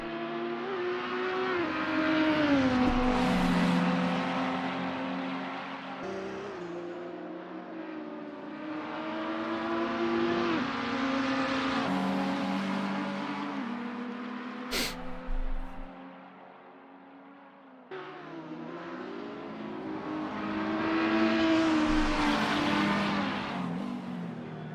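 An Audi R8 and a McLaren GT3 race through a Road Atlanta endurance round in Assetto Corsa. Engine notes rise and fall through repeated gear changes and braking, close and steady, with a brief dip in the middle before they pull away again.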